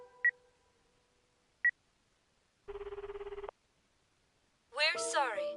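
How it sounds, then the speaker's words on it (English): Phone dialing a call in the video game Akiba's Beat: two short beeps, then a steady ringing tone lasting under a second, followed by a synthesized chime flourish. Clean and isolated, with no talking. "Alright, I'm gonna try calling her."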